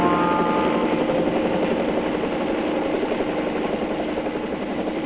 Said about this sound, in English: Just relax and let the helicopter do the work.